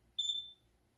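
A smoke alarm gives a single short, high electronic beep, clear and fairly close against a quiet room, then falls silent.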